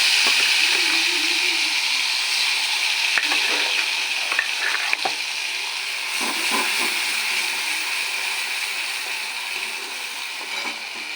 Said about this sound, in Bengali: কালো জিরা ফোড়ন দেবো বেটে রাখা সর্ষে জিরে আর লঙ্কা দিয়ে দেবো